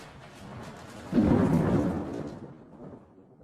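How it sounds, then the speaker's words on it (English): A low rumble of thunder swells and slowly fades over a steady hiss of rain. "Tonight, there is a terrible storm, and it is raining."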